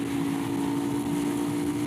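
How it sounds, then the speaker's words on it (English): Aprilia Tuono or KTM 990 Duke motorcycle engine pulling hard on a back road, a steady loud drone with a strong tonal hum held throughout, no voices. "Let the engine have its head, which it's pretty damn quick."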